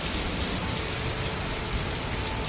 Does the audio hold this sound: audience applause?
no